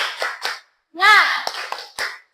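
A group, apparently schoolchildren, claps out a rhythmic cheer chant. A few crisp, spaced claps alternate with short shouted voices in a brief call-and-clap pattern, and each clap stands alone between near-silent gaps.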